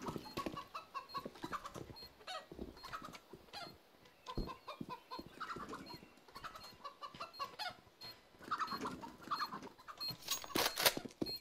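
Chicken clucking from the CS:GO video game, a run of short, fairly loud fowl clucks and squawks spread across the clip amid game noise, with no talk.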